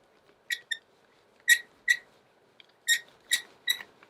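A squeaky brayer rolls blue paint across a paper journal page, giving off repeated high squeaks in short pairs and bursts with brief quiet gaps between, close and clear with no talking.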